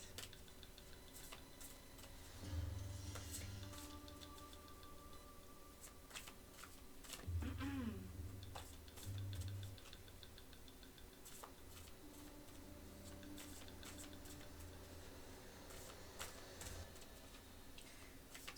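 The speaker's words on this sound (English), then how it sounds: "while I'm shuffling the cards" Soft, rapid riffling and tapping of tarot cards being shuffled continues steadily throughout, quiet and close, with faint background hum and occasional low thumps.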